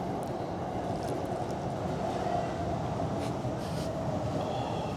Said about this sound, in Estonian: Taga muidugi käib meil rong